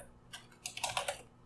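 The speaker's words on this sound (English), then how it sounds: "typing the word item" Quick burst of typing on a computer keyboard while writing C++ code, with several crisp, close keystrokes clustered together over about a second and no voices.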